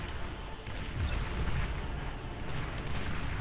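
Artillery muzzle fire in the strategy game Beyond All Reason, a dense rumbling volley of booms blending into a continuous loud roar, with several overlapping blasts and a brief sharper crack near the start.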